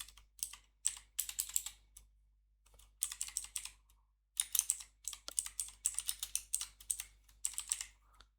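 Computer keyboard typing while entering a group name in a Salesforce setup screen: close, crisp key clicks in quick bursts separated by short pauses, with no voice and a low steady hum underneath.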